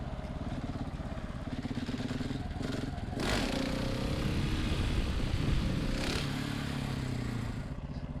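A motorcycle engine drones steadily during a wheelie with the rear brake dragged, holding an even pitch rather than climbing, with scraping and clattering noises swelling midway; the sound stays fairly close and moderate.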